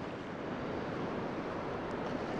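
Sea water washes over a rocky coastal ledge in Northumberland, a steady, dense rush of surf with no voices.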